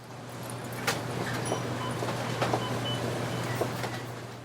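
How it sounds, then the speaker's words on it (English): Steady indoor grocery store ambience with a low hum, faint distant murmur and scattered clinks and bumps of shoppers moving about. "That's the sound of customers buying food at the grocery store"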